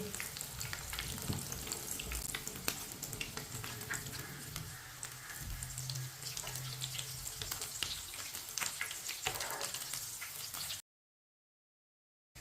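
Aloo kababs, potato patties, fry in a pan with a steady close sizzle and scattered crackles and pops, running without talk before dropping to a short silence near the end.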